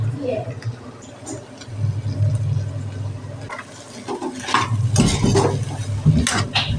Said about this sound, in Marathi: व्यवस्थित परतलेलं आहे मिरची कढीपत्ता कोथिंबीर बटाटे घालते चवीपुरतं मीठ